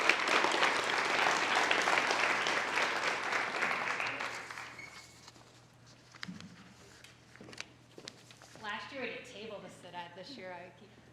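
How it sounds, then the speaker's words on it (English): An audience claps for event sponsors at a show, loud dense applause for about four seconds that thins and fades out, followed by scattered quieter sounds and a person speaking near the end. "Let's give a round of applause for all those sponsors."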